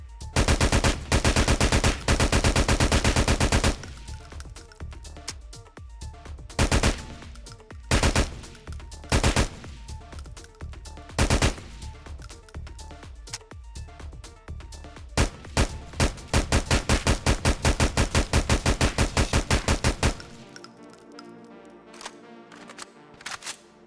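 A modded assault rifle in GTA 4 fires in semi-auto, three-round burst and full-auto modes: a long sustained automatic stream, then scattered single shots and short bursts, then more rapid fire, with loud sharp reports and brief gaps between strings.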